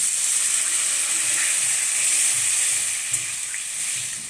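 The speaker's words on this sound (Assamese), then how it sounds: "এতিয়া আমি অকণমান পানী দিম" Water poured into spices frying with taro and potato in a pan, a loud steady hissing sizzle with steam, a few small pops and spatters, no voices.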